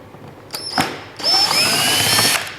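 A power screwdriver backs screws out of the air box on a 2015-2017 Yamaha YZF-R1 sportbike: two short whirring bursts, then one longer high whine as a screw spins free, close and loud with no talk.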